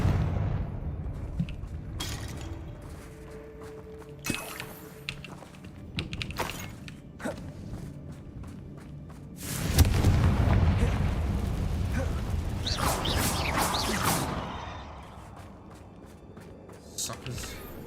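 Spell blasts in the Hogwarts Legacy video game: bursts and booms set off among crackling effects, with a heavy sustained eruption midway, while a player talks over the action.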